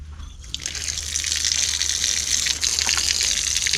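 Water runs steadily from a tap at a temple where visitors wash their feet, a continuous close gushing splash that starts after a brief quieter moment and holds at an even level throughout.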